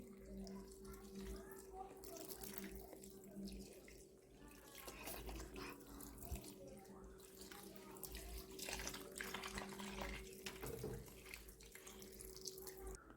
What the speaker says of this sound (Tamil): எப்படி தண்ணி வருது பாத்தீங்களா?